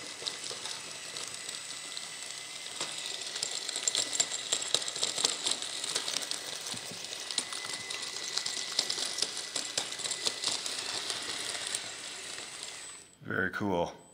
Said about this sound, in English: Now I can actually hear the tracks.